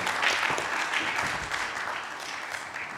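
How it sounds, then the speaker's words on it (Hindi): An audience at a theatre festival staging a play claps together in a brief, steady burst of applause, fairly distant and soft. "दीदी के लिए एक बार जोरदार तालियां बजाइए।"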